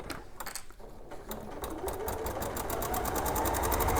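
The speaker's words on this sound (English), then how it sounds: "So I'll sew this and I'll turn it around" A sewing machine stitches a bag, its needle clattering in a fast, even, close rhythm that starts hesitantly and then runs continuously and grows louder.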